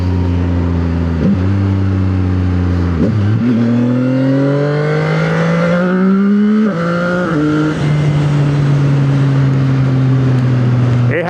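A new motorcycle being broken in on a night ride: the engine's loud, close drone rises and falls through repeated gear changes, with wind rush underneath and no talking.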